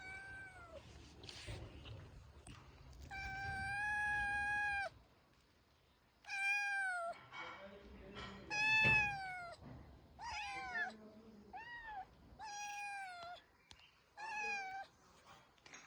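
Two cats shut in and trying to get out meow and cry loudly and close by, in repeated drawn-out calls broken by short pauses, with no talking.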